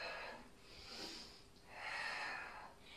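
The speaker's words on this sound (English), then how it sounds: "Nice deep breaths." Deep breathing during a full-body yoga flow: two or three long, airy breaths drawn in and pushed out, loud and close, with no talk.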